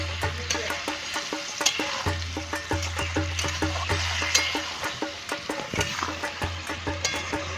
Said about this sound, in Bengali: মশলা হয়ে গেছে, ভাজা আলু টাইপের দিয়ে দেবো।